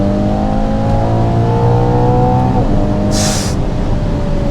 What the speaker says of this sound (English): The downshifts are aggressive and fast.